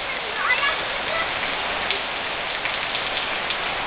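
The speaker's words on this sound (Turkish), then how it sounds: "Şu anda çok güzel bir yağmur var ama hava açacak gibi." Steady moderate rainfall after days of long-awaited rain, a dense continuous patter of drops on surfaces with a faint voice underneath, constant and fairly close throughout.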